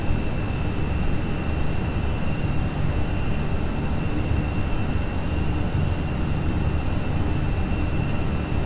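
A Fenix Airbus airliner climbs in a VATSIM flight simulator, its engines giving a loud, constant broadband roar with a steady whine on top, unchanging throughout and with no voices.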